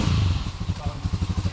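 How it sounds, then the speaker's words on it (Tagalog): New motorcycle engine idling nearby, a loud, steady pulsing throb with even beats across the short stretch. "Nasa bagong motor guys"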